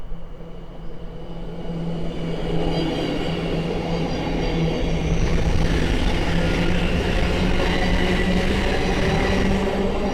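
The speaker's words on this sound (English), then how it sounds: "the next train to pass away is a breakneck speed Thameslink 700." A Thameslink Class 700 train speeds past on the East Coast Main Line at Great Wymondley, a loud rushing roar with rumbling wheels that builds and stays heavy throughout, close by and with no talk.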